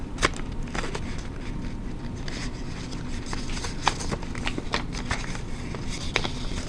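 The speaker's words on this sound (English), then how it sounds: "Open it up and kind of fold it back so it's going" Paper being folded into an origami swan gives soft, close crinkles and sharp creasing snaps scattered irregularly over a quiet background, with no voices.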